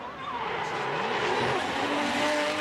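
Two Formula Drift Japan cars initiate a drift together, engines roaring loud and sustained with squealing tires and skidding rising over a continuous racing-engine wall of sound.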